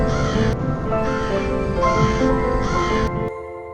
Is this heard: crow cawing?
yes